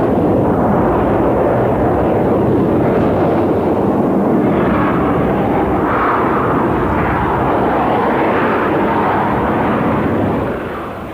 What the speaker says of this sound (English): Here, in a slow flypast, it's possible to see the angle of the canards in this flight condition.